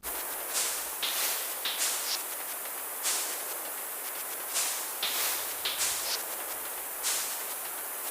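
Layers of filtered noise from an Ableton Drift synthesizer with its oscillators off hiss steadily, with soft rhythmic swells and bright airy bursts recurring through the loop.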